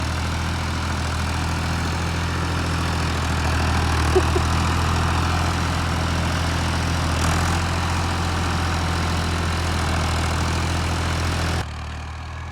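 A tractor engine labours steadily while hauling a sugarcane trolley stuck in the ground, a continuous low heavy drone that holds loud and even for several seconds, then drops slightly near the end.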